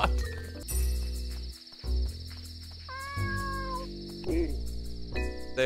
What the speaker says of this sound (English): They are Momo's kitten.